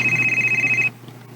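A telephone rings on an outgoing call, a steady electronic ring tone lasting under a second before cutting off to quiet line hiss.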